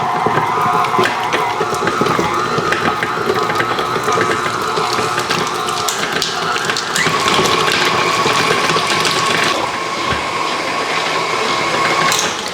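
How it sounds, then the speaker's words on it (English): A stand mixer creaming butter for cupcakes, running steadily with a loud continuous whirr and rattle close by, the motor tone shifting slightly partway through. "put the mixer down, lock it in place, and get it started"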